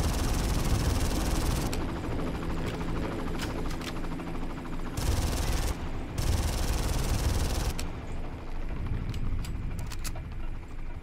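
Helicopter in the video game Far Cry, a steady loud rotor and engine drone running throughout, mixed with bursts of automatic gunfire and game action noise.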